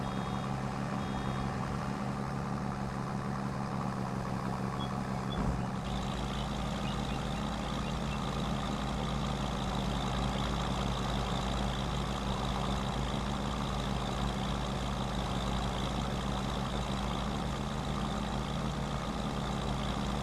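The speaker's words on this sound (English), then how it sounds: "I love the sound of this tractor." An MB Trac tractor drones in Farming Simulator 25, a loud, steady, low engine rumble that continues without a break, with faint reversing-style beeps over it.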